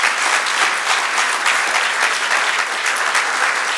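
Dense, steady applause from a church congregation fills the space, a loud continuous wash of many hands clapping at once without pause.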